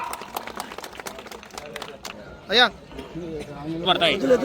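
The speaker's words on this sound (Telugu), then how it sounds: "ఒకసారి క్లాప్స్ కొట్టాలి, వాళ్ళందరూ గట్టిగా చప్పట్లు కొట్టాలా" Audience clapping at the opening of a bullock cart race with Ongole bulls, a ragged burst of applause in the open air, with voices calling and speaking over it.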